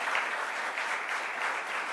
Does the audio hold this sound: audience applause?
yes